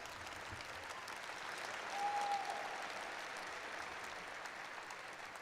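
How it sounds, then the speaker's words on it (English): Graduation audience at a high school ceremony applauding for a choir, a dense, soft, distant wash of many hands clapping that holds steady throughout. "Yes, another round of applause."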